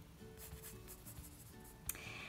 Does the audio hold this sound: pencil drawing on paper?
yes